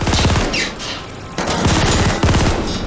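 Rapid automatic gunfire bursts from Call of Duty: Vanguard, loud and close, in several volleys over a few seconds with brief lulls between, no talking.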